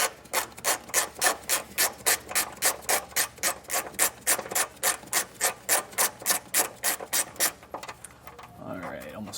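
Rhythmic ratcheting on a trailer hitch mounting bolt of a 2015 Dodge Durango, a steady series of about twenty even clicks up close, stopping near the end with faint rustling.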